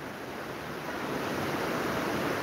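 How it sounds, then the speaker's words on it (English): Rain falling outdoors makes a steady, dense hiss that grows slightly louder over a few seconds, with no voices. "Rain is falling here. Rain just started falling."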